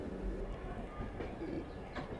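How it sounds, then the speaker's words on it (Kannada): A train rumbles past a level crossing in India, heard from aboard the Shirdi–Belagavi Goa Express; a steady low roar runs throughout with faint rail clatter and no clear talk. "ಯಾವುದೋ ಟ್ರೈನ್ ಬರೋದು"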